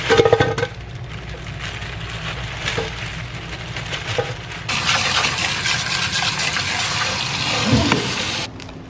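Tap water runs into a kitchen sink while potatoes are washed, a steady close rush that grows louder and brighter midway, with clunks of handling, then cuts off at the end.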